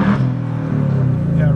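A new Ford Mustang GT engine revs in neutral to a limiter at about 4,000 rpm, giving a loud, close, sustained throaty drone with people talking over it.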